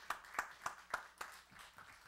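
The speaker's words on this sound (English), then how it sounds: "I'd like to give the choir another round of applause for a couple great songs." A handful of distinct, fairly even claps echo faintly in a church as the congregation applauds the choir, sparse and thin rather than a full ovation.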